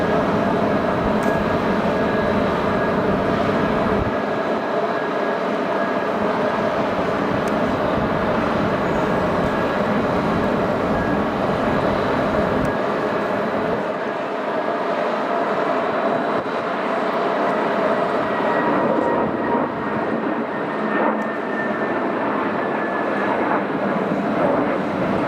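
A Lufthansa airliner at Manchester Airport roars steadily with broad jet engine noise, loud and sustained, then slowly fading as it moves away.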